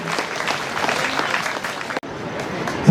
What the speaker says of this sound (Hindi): जोरदार तालियां बजा देंगे।